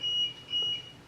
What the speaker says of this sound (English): I apologize for that beeping up there.